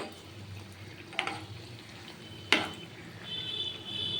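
Puri gaja pastries fry gently in oil in a pan, a quiet, low sizzle punctuated by two sharp metallic clinks of a utensil against the pan.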